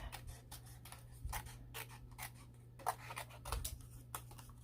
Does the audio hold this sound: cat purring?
no